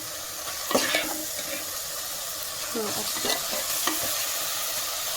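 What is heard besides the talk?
mutton keema frying and being stirred in a pan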